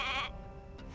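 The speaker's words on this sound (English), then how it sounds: "Hey, a sheep!" A single short sheep bleat in the video game Divinity Original Sin, close and clear at the very start, then fading into soft background ambience.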